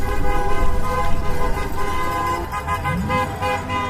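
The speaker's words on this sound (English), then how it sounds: "as cars honk driving by" Car horns honking as cars drive past a No Kings protest in Canton, several sustained toots layered over passing traffic noise, fairly close and loud.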